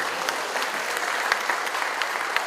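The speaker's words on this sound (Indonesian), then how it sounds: "kita beri tepuk tangan untuk para pengurus PMI" A crowd at a Palang Merah Indonesia (Indonesian Red Cross) event applauds the PMI board members, giving a steady wash of many hands clapping with a few louder individual claps standing out near the front.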